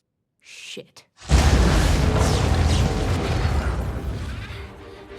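An explosion in the animated Marvel Zombies series: a short breathy sound, then a loud, deep boom that rumbles on for several seconds and slowly fades.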